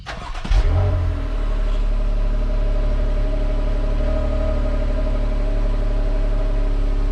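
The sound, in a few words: Jeep V8 engine cold start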